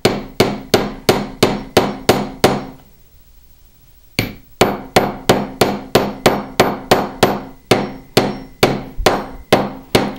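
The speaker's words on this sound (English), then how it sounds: "So I'm going to start by hammering the entire thing flat." Sharp, evenly spaced hammer blows flatten a fine silver clasp, about eight strikes, a short pause, then a longer run of steady ringing hits, close and loud with no talking.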